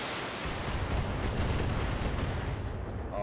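Heavy weapons fire from mechs in the Battletech strategy game, a dense continuous rumble of overlapping blasts and booms, loud and steady throughout with no distinct pauses.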